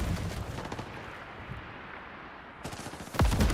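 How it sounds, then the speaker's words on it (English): Gunfire in the video game HighGuard, bursts of rapid shots that thin out into a quieter stretch before a heavy, loud blast near the end. "I'm getting shot"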